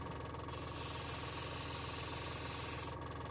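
A Gaahleri airbrush sprays in a single burst of about two and a half seconds, a soft, steady close-up hiss of air that starts and stops cleanly against a quiet background.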